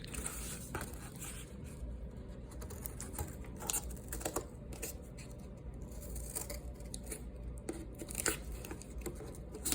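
Scissors cutting a wing shape out of cardboard, with close, quiet snips and scraping crunches repeating irregularly over a soft background.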